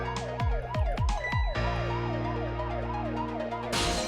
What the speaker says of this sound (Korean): 여기서 사이렌 켜봐